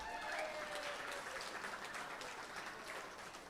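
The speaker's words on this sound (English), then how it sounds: "So let's give her a big clap." A crowd at a service dog charity gala breaks into sustained applause, a steady wash of clapping that stays even and then tapers slightly, heard from a distance in a large room.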